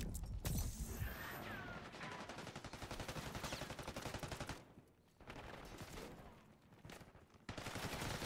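Rapid automatic gunfire in Black Ops 6, dense bursts of shots in sustained strings with brief pauses between volleys, loud and close with no talk over it.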